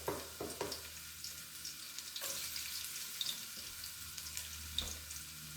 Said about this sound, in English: we got the garlic in the oil